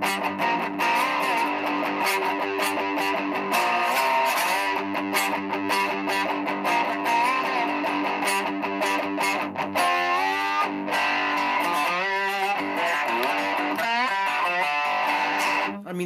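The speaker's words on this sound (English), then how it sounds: "So I put the distortion on in my amp, and I want to let you hear how phenomenal this sounds." Heavily distorted electric guitar from a Wickedbucker bridge pickup wired straight to the jack, played through an overdriven amp: sixteen seconds of loud, continuous riffing with chugging chords, then bending lead lines near the end, without speech.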